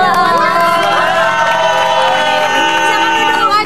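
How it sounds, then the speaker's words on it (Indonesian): A studio audience on an Indonesian talk show applauds and cheers as a guest is welcomed in, a loud, dense crowd wash of clapping and whoops sustained throughout. "Tepuk tangan."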